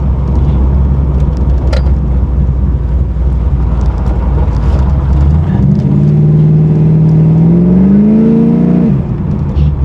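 A 500 hp 1987 Chevy Monte Carlo SS engine drones steadily from inside the car, then its pitch climbs smoothly as it accelerates hard, with wind rush throughout.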